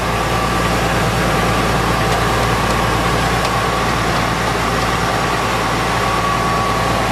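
Fire engine pump running at a steady 130 psi engine pressure while supplying hose lines, a loud continuous low diesel drone with a faint steady whine above it, unchanging throughout with no talk.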